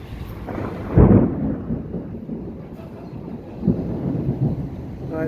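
Loud thunder rumbling after a lightning strike during a storm over Montreal near Decarie, a sharp crack swelling into a long low roll, then a second, fainter rumble, with no talking.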